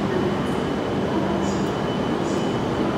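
Tohoku/Akita Shinkansen train arriving at Morioka Station, a steady rail rumble and wheel noise filling the platform with a few faint high squeals over the top.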